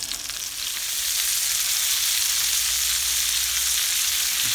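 Turkey cutlets sizzle steadily in hot oil in a frying pan, a loud continuous crackling fry that settles in after a brief softer start, with a faint scrape or tap near the end as a cutlet is turned.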